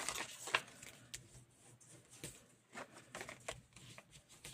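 Pieces of paper being folded for a star-shaped interactive card, with quiet, sparse crinkles and soft creasing rustles, one sharper crackle near the start, close by in a quiet room.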